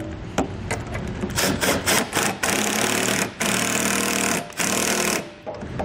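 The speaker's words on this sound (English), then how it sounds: "So we'll use a 1/2 inch socket to tighten our bolts down on our driver's side." An impact tool with a 1/2 inch socket hammers trailer hitch bolts tight under a vehicle, loud and close, in rattling bursts with brief gaps between them.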